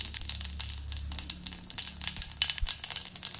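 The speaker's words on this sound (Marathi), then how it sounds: "आता यात जिरे घालून घेणार आहे" Cumin seeds sizzle in hot oil in a kadhai on a gas stove, a soft, steady crackling and spitting sizzle with small pops and no voices.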